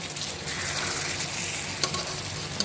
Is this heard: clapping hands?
no